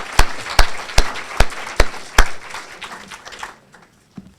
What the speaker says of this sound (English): Would you please give a round of applause for all of the sponsors who brought us all together here